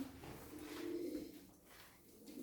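Pigeons and other birds in a winter coop give soft, continuous low cooing that swells and fades over a couple of seconds, close by with no talking.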